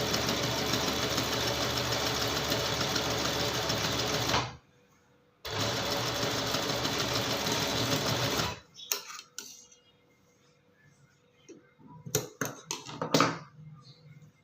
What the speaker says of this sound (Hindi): हम उसको इस तरह से पकड़ेंगे और इसके बिल्कुल बारीक कोने पर सिलाई लगाएंगे